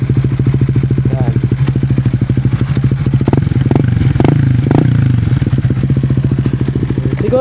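A 2024 Raider 150 Fi motorcycle fitted with a Vhenworkz power pipe exhaust idles with a steady, throbbing putter, then revs briefly several times in short blips before settling back to idle, close and loud without talk.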